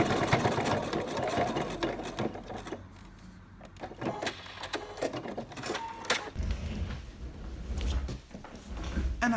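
A sewing machine runs stitch lines on fabric, an uneven mechanical whir with starts and stops, moderately close and without talking.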